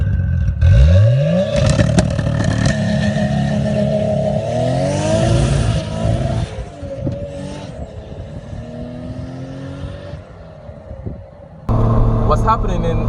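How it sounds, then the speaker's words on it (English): A car launches on street tires with the ECU cutting ignition, the engine roaring and rising in pitch with choppy, stuttering bursts, loud and close, while someone talks over it. "the ECU is going to cut ignition time for a certain amount of time after your launch"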